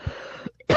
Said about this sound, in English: I'm having a coughing.